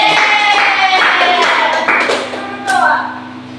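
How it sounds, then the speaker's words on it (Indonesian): Students in a classroom clap together for a classmate, a steady patter of hands mixed with overlapping voices, fading slightly toward the end. "Beri tepuk tangan untuk teman kalian."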